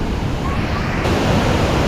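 A waterfall in a Kenyan forest roars as a steady, loud broadband rush of falling water, continuous and close.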